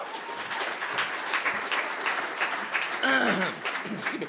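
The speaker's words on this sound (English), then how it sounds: "Another round of applause for Rob." Audience applause at a storytelling event, dense broadband clapping that stays steady throughout, with a brief bird-like chirp or whistle rising near the end.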